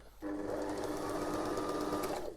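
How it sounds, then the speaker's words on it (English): A sewing machine stitches through paper to perforate tickets, a loud continuous motor whir with rapid needle chatter lasting about two seconds before stopping. "You've got your perforations by doing it with a sewing machine."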